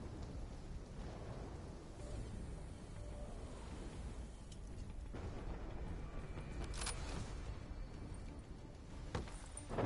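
A constant low rumble of thunder and a wash of rain from a storm in the Call of Duty Black Ops 3 campaign carry on without a break, with a few faint, sharp clanks now and then.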